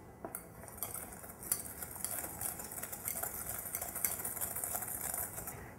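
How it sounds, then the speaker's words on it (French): Softened butter being whisked with caster sugar in a bowl for brownies, a steady scraping, clinking whisk against the bowl running throughout at close range, with no talking. "je vais mettre mon beurre mou que je vais mélanger à l'aide d'un fouet avec le sucre en poudre"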